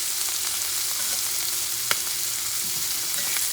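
Elk meat frying in a pan gives a steady close hiss and crackle, with occasional pops over the continuous sizzle.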